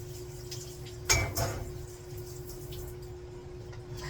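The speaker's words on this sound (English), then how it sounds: "I was just going to grab this little cutting board" A small cutting board is picked up in a home kitchen while water heats on the stove, giving one sharp clatter followed by a lighter knock over a steady faint hum.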